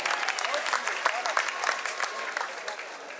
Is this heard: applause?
yes